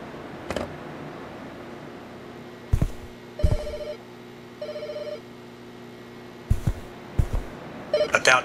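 A telephone rings in short electronic bursts separated by pauses, ending in a faster trill, all against a quiet steady hum.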